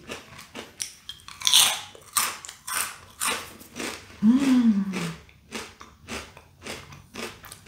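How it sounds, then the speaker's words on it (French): Crisp, close crunching of seaweed snack sheets being bitten and chewed, a series of loud rhythmic bites and crackles repeating throughout with brief pauses and a low hum between. "Je pense que vous entendez comment ça croustille."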